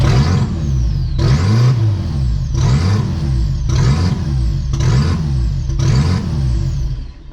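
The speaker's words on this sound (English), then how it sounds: "holy crap, there's so much turbo noise" Turbocharged 1.8T engine swapped into a VW Golf 3 revving repeatedly, about six loud rising pulls each followed by a whistling turbo spool and drop, in a steady rhythm close to the engine.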